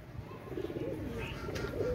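Pakistani Shaki pigeons give soft, low, rolling coos over a muffled background hum, fairly faint and continuous.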